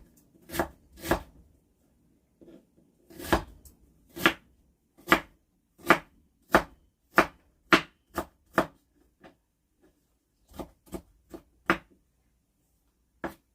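A knife chopping vegetables on a board, sharp distinct strikes in irregular bursts and runs, close and clear with pauses between groups.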